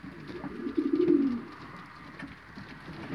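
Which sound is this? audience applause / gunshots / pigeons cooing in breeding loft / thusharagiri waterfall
pigeons cooing in breeding loft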